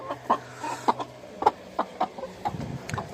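Brahma hens and a young rooster cluck in short, separate bursts, a dozen or so spaced calls nearby against a quiet farmyard background.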